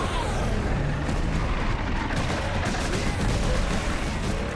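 Dense, continuous battle din of explosions and gunfire in the Warhammer 40K Space Marine video game, loud and unbroken throughout.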